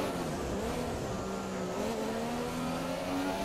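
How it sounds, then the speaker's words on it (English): A race car in the F1 2017 video game does burnouts, a steady engine roar with rising and falling revs held at a constant level throughout. "So, do some burnouts."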